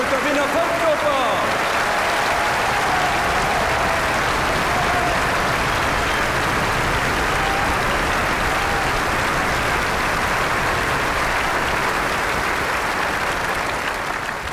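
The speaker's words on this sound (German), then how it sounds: "Geben Sie sich einen riesen Applaus, das weltberühmte Ballett der Wiener Staatsoper und der Wiener Volksoper" Large concert audience applauding the Vienna State Opera and Vienna Volksopera ballet, a dense, steady roar of clapping that fills the whole stretch at full loudness, with brief voice traces at the start.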